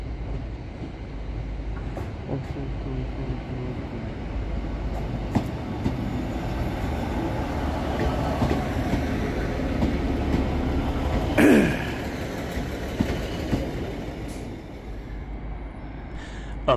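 A train arrives at Hull Paragon station, rumbling steadily close by, with a brief metallic squeal of wheels partway through and constant low mechanical noise throughout.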